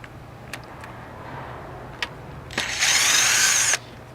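Power tool loosening ignition coil bolts on a Buick LaCrosse 3.8, one short close whirring burst after a few small clicks and taps.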